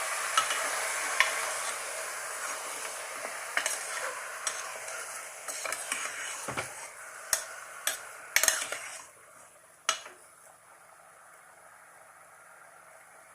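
Chicken being mixed in a pressure cooker, a soft spoon scraping and stirring with light clinks against the metal pot over a faint sizzle, the scrapes irregular and fading toward the end.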